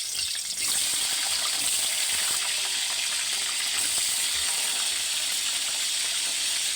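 Tofu frying in hot oil in a home kitchen gives a steady, loud broadband hiss and crackle that runs unbroken for the whole stretch, with no voices over it.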